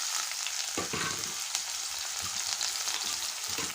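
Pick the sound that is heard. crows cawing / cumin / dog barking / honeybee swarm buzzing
cumin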